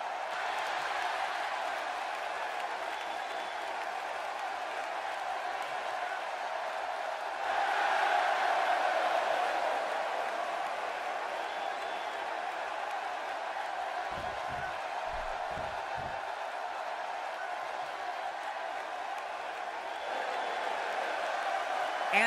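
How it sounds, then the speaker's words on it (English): Arena crowd at a wrestling show cheering loudly for the Dudleys, a dense sustained roar that swells around the middle, with a few low thumps near the end. "listening to the reaction this guy gets from a crowd never gets old"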